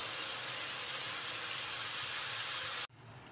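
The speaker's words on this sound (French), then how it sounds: "Il faut faire mijoter." Red wine sauce with carrots simmers in a pot for a traditional wood pigeon salmis, a steady close hiss of bubbling that cuts off abruptly near the end to a quieter background.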